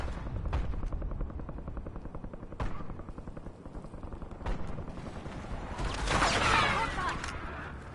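Gunfire in Warzone on Verdansk, rapid automatic bursts and sharp single cracks at close range, with a loud rushing swell near the end and brief talk mixed in.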